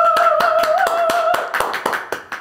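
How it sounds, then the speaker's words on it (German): Applause sound effect added in editing: a series of distinct, sharp hand claps in an uneven rhythm, moderately close, over a sustained tonal hum that drops out halfway through, leaving the claps more spaced and isolated. "macht mal hier so einen Applaus-Dings rein"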